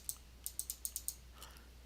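A computer mouse is clicked repeatedly in a quick, slightly uneven run of about seven sharp clicks, close and quiet, followed by a couple of softer clicks.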